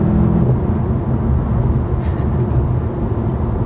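A VW Golf 7 GTI accelerating hard, heard as a steady, loud, low engine drone from inside the car, with no talking.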